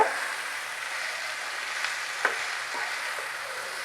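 Soft, steady sizzle of spiny gourd pieces frying in a frying pan with no water added, with a few light scrapes and taps as they are stirred.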